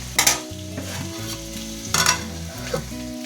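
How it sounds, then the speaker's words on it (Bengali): Potato pieces and vegetables fry in hot oil with a continuous sizzle, broken by a few sharp scraping stirs of a spatula in the pan. "এই যে আলুর পিসগুলো আর সবজিগুলো খালি ভেজে এর মধ্যে দেবো।"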